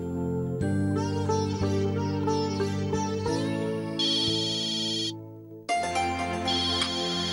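A mobile phone ringtone rings out as a continuous melodic electronic tune, loud and close, pausing briefly near the end before resuming, with no talking over it.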